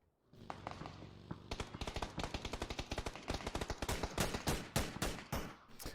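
Bursts of automatic weapon fire in a PUBG esports match, sharp rapid shots that start sparse and build into dense, accelerating sprays, loud and close with no voices over them.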